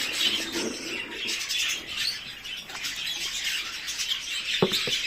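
Budgerigar chicks, well feathered, call from inside a nest box with a steady stream of raspy squawks and chirps, close and continuous, with a couple of sharper clicks near the end.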